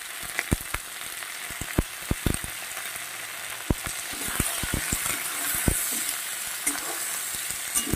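Gourd leaf stalks sauté with bori, salt and turmeric in a pan, giving a steady close sizzle broken by frequent sharp clicks and scrapes of stirring, with no talk.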